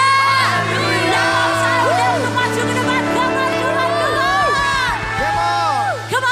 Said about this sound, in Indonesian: Sorakan haleluya.